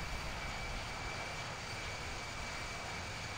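A steady, broadband jet roar with a faint high whine from an F-16 in the Infinite Flight flight simulator, continuous and even, with no voices over it.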